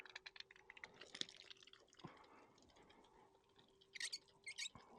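Water flows and drips through the holes of a pressure washer pump during a pump replacement, with irregular trickles, a few sharper splashes and quiet clicks close by.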